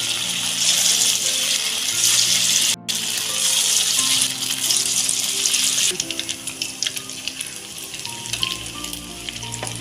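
Balls of Maggi noodle pakoda batter fry in a kadai of hot oil with a loud, dense, continuous sizzle. It cuts out for an instant, then crackles on more unevenly, with no one talking.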